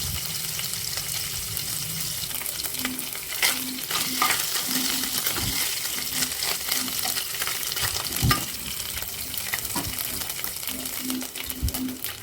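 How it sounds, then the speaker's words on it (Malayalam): Coconut pieces frying in ghee in an uruli for Kerala ada pradhaman, with a continuous sizzle under repeated scraping and clattering stirs, close and fairly loud. "ഈ ഒരു തേങ്ങാക്കൊത്ത് നല്ല ബ്രൗൺ കളർ ആവുന്നത് വരെ ഒന്ന് വറുത്തെടുക്കാം."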